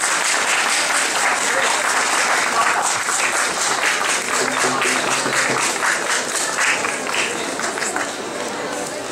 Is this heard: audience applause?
yes